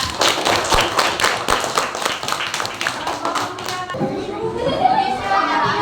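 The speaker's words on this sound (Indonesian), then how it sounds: "Tepuk tangan." A group of children claps their hands in an elementary school class, a brisk run of sharp, close, rhythmic claps that then fades into children's chatter and voices.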